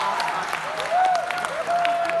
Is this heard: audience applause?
yes